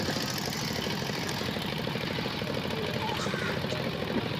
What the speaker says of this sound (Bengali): এই যে ট্রলারটি দেখছেন এরা সবাই ঘুরতে যাচ্ছে